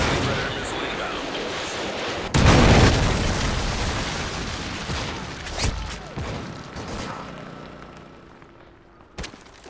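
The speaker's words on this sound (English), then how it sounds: "Predator missile inbound." A Predator missile strike in Modern Warfare 3 lands as one loud, booming explosion that decays slowly, followed by scattered distant pops and a short sharp burst near the end.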